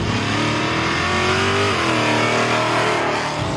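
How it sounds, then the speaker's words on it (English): A modified Ford Capri muscle car engine revs hard and close, a loud continuous roar with rising and falling pitch as the throttle is worked on track. "Steve Wood's Capri packing a whole lot more punch than anything the Ford factory deemed civil"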